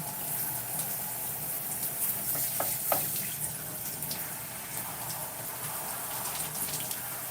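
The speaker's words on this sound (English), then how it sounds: "So I'm just rinsing the conditioner. I'm going to leave the twist in my hair and rinse the conditioner out" Shower water runs steadily while conditioner is rinsed out of twisted natural hair, a soft continuous patter and hiss with a few faint clicks, fairly quiet and without talk.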